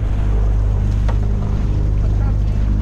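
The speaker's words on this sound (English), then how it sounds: "Wind's picked up, definitely." Steady wind roars over a commercial crab potting boat out at sea, a constant loud broadband rush mixed with a low engine drone and no break through the whole stretch.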